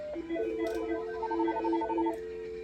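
Telephone keypad tones dialing extension 3201 on a BITeC office phone system, a quick sequence of short, clear electronic beeps in close succession.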